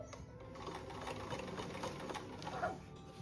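A sewing machine runs steadily while stitching a zippered seat cushion cover, its fast, even mechanical whir continuing close and loud for the whole stretch with no talking.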